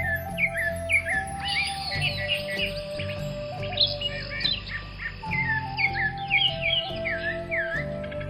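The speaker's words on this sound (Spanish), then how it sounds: "se entretuvo horas completas al escuchar el canto de los pájaros" Birds chirp and whistle in quick repeated calls over a soft, steady musical background.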